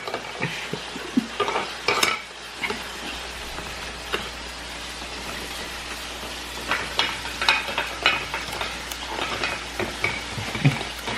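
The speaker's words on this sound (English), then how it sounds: "This is how not to use a meat grinder, guys." A meat grinder works meat amid clattering and scraping in a kitchen, with irregular clunks and rattling bursts and a steady low hum underneath, fairly close and moderately loud.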